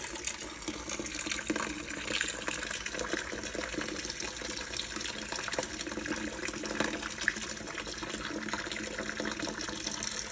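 Tap water runs steadily into a sink as lunch items are washed, a continuous broadband splash and hiss with small bursts, fairly quiet and with no talking over it.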